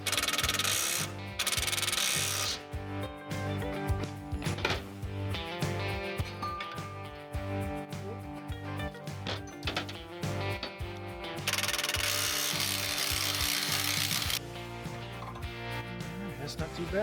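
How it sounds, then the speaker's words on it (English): A subcompact ratchet with an extension loosens bolts while salvaging parts from an abandoned cabin in Alaska, giving rapid rhythmic clicking in bursts with metallic rattles, close and clear, broken by brief louder scraping stretches. "We're gonna undo these bolts and get it changed out"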